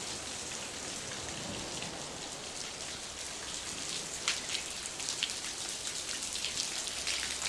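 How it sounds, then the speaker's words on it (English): Heavy rain pours steadily during Storm Darragh on the Southwest Coast Path in Cornwall, with runoff streaming off the hills near a cave, forming a dense continuous hiss with heavier spattering gusts toward the end. "holy rain and stuff coming off the hills"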